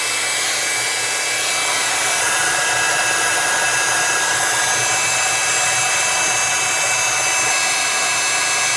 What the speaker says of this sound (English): So I'm just going to heat this from above.